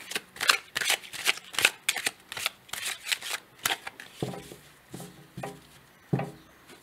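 Tarot-style cards shuffled and drawn for a reading, a quick papery riffle of rapid flicks for about four seconds, then a few slower, separate slaps and slides of single cards being laid out, close and clear with no talk.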